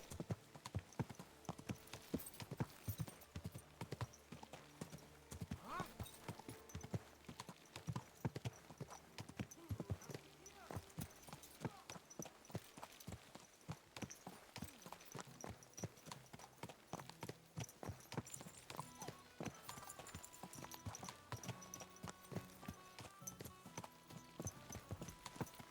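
Horse hooves clip-clop steadily in Kingdom Come: Deliverance 2, a dense run of rhythmic steps, with an occasional whinny, layered over in-game ambience and music for the whole stretch.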